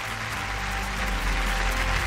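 A studio audience at a Chinese health television programme applauds to welcome a hospital's deputy head of clinical nutrition, a steady wash of clapping held at an even level with no voices.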